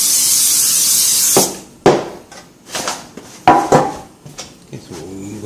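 A steady hiss of cooking oil sprayed onto a baking pan for bread dough runs for over a second, then gives way to scattered clanks and taps of the pan being handled.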